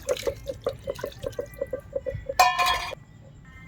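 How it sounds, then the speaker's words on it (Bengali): Water drips and trickles steadily as a stone grinding slab and its pestle are washed, with a brief splashing pour in the middle, close by and moderately loud, no talking. "পয়লা শিলটা আর নোড়াটা ভালো করে ধুয়ে নেবো।"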